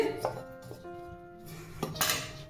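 A metal lid clanks onto a pot of suji maida paratha dough with a couple of close clinks and a ringing metallic tone, fairly faint, with no talk.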